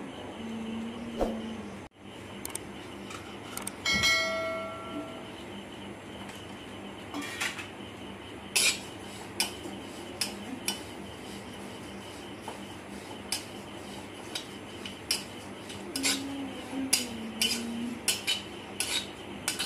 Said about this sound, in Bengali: আমার তিলটা ভাজা হয়ে গেছে